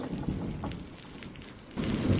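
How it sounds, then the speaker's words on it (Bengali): Heavy rain pours steadily in a Bengali cartoon storm scene, with low rumbles of thunder rolling underneath and a louder swell near the end of the short stretch. "বৃষ্টি এখনো এক টানা পড়ে চলেছে।"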